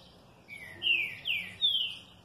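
A songbird, a chestnut-bellied seed finch (tiziu) or a saw-billed songbird (trinca-ferro) coming out of its moult, sings a few sharp, bright rising phrases, close and clear over a faint background.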